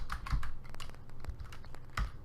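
Quiet computer keyboard typing, a short burst of crisp keystrokes in an uneven rhythm, close and soft, with no voices.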